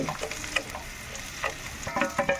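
Green chillies frying in a pan, with a steady crackling sizzle and a few spoon scrapes and clicks close by, no voices.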